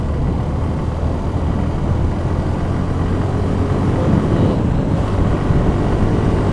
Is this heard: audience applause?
no